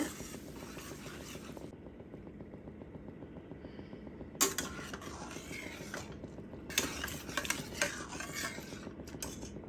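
Cooked dal being stirred into bitter melon in a pan, with repeated scraping and clinking of a spoon against metal in uneven bursts over a low steady background, no voices.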